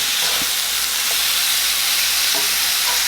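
Cubed steak sizzles hard in a hot skillet with Worcestershire sauce, a loud, close, steady hiss and crackle with a few faint knocks of a utensil, no voices.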